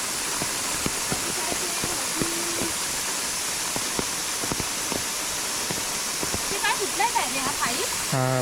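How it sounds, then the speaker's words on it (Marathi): Steady light drizzle patters outdoors in a Konkan village, a soft continuous hiss with scattered drips, while a person talks over it and brief clattering sounds occur near the end. "रिमझिम रिमझिम पाऊस पडत आहे जोरात नाही आहे"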